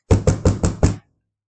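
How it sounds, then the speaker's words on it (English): Five firm knocks strike a door in quick, even succession, close and loud, then silence follows. "she heard another knock"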